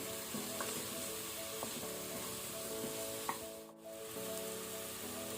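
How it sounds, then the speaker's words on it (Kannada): Brinjal and green peas fry in a pan with a soft, steady sizzle, broken by a few light clinks of stirring, no talk. "ಸ್ವಲ್ಪ ಇದನ್ನು ಈಗ ಫ್ರೈ ಮಾಡ್ಕೊಳ್ಳುವ."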